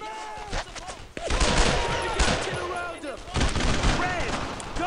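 Gunfire crackles in Brothers In Arms: Road to Hill 30 as loud, rapid bursts of rifle and machine-gun shots, with shouted voices over the shooting.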